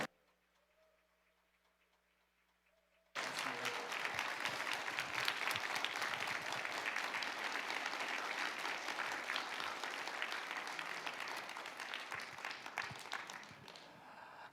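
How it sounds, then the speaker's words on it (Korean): A church congregation breaks into loud, sustained applause welcoming a pastor to the pulpit, starting abruptly after a few seconds of near silence and continuing steadily to the end. "박수로 환영하겠습니다."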